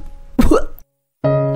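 A man coughs after drinking bitter herbal tea, giving one harsh, close burst of coughing. After a short silence a sustained tonal sound follows.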